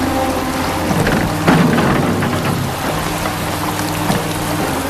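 Steady, loud rain falls at an outdoor burial, a dense hiss with occasional heavier patters and no voices.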